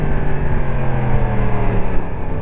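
A 2022 Yamaha MT-10 SP motorcycle with stock Euro 5 exhaust runs steadily and loudly nearby, its deep, rumbling exhaust note holding with slight fluctuations and no talking.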